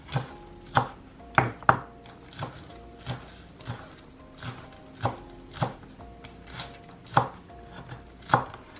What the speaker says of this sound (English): next I'm gonna cut up the green onion